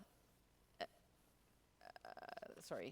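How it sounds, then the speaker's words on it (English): A woman gives a single short burp into a microphone, followed by a quick run of choppy, gurgling throat sounds and soft voice. "I'm burping on the microphone"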